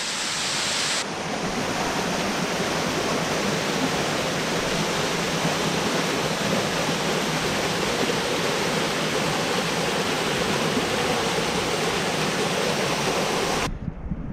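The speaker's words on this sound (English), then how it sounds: "it is coming right out from under the rock, which means there's subterranean creeks of water flowing under these limestone cliffs" Trummelbach Falls water gushing out from under limestone rock, a loud, steady roaring rush of falling water that holds constant throughout with no voices.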